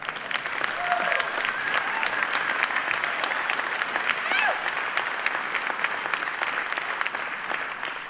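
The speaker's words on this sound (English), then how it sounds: "if that shouldn't get a round of applause, I don't know what should" An audience gives Catherine a sustained round of applause during a speech, an even wash of many hands clapping at moderate volume, with faint voices mixed underneath.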